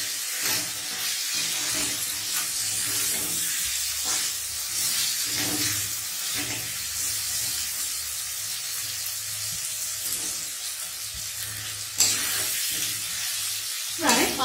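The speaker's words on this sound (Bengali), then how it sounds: "প্রায় 5 মিনিট মতো এটাকে নাড়াচাড়া করব।" Chicken rezala stirred in a pan after milk and water go in, giving a steady hissing simmer with soft intermittent scrapes and clinks that hold moderately loud throughout.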